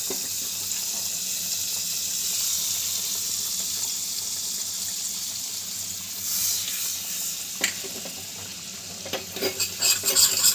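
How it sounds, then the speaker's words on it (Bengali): Chili powder frying in butter for a duck egg kosha makes a steady, hissing sizzle close by, with stirring scrapes growing busier toward the end, and nobody speaking. "বাটার দিয়ে লঙ্কা গুঁড়োটা ভেজে নেব"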